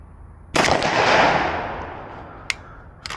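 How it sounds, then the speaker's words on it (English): A Dissident Arms KL-12 shotgun fires a slug: one loud, close blast with a long rolling decay outdoors, followed by a couple of sharp mechanical clicks. "let me just fire the 5th one and see if we get a last round bolt hold open."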